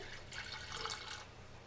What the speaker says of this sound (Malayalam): അപ്പോൾ ഇതിലേക്ക് വേണ്ടിയിട്ട് ഞാൻ കുറച്ച് വെള്ളം ആഡ് ചെയ്യാണ്.